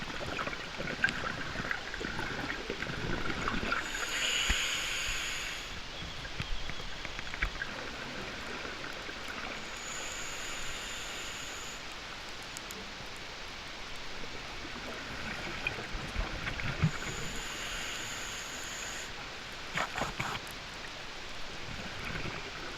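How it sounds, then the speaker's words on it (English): Scuba diver breathing through a regulator underwater on a dive at a sunken Navy minesweeper wreck, a constant rushing hiss with periodic bursts of bubbling exhalation roughly every six seconds, no voices. "you hear that Darth Vader sound, and then whenever you breathe out, you've got bubbles coming up around your ears"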